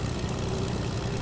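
A propeller airplane engine in the video game Fortnite drones steadily at a low idle-like hum for about a second, loud and continuous with no speech.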